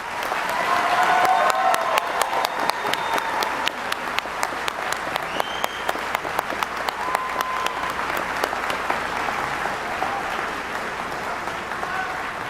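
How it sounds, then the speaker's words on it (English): Broad applause from a seated audience at a college commencement, steady and full across the whole stretch, with a few louder distinct claps standing out near the microphone. "let's give our candidates a round of applause."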